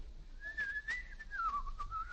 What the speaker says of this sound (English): stop whistling in the dark